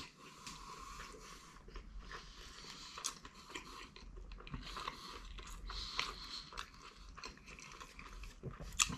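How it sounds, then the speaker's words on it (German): Someone chews a bite of XXL burger pizza up close, with steady moist crunching and munching throughout and no talking. "Nehmen wir hier drüben noch einen Biss."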